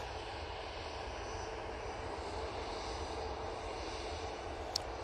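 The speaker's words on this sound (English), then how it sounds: "EasyJet A320 CEO. This will be going off to the Isle of Man." An EasyJet Airbus A320ceo jet at Manchester Airport produces a steady, broadband engine roar heard from a moderate distance, even and unbroken throughout, with no talking.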